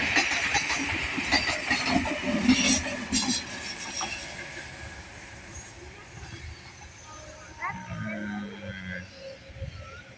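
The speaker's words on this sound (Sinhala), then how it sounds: "ඔව් කෝච්චියක් එනවා පේනවා." An express train rolls past close by, a broad rumbling roar with hissing and rattling wagons that slowly eases off, with a brief squealing and a faint voice near the end.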